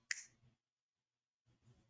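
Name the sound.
finger snapping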